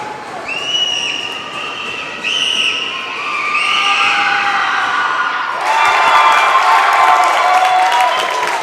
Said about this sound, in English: The crowd, the Eagle crowd liking that here at the sideline.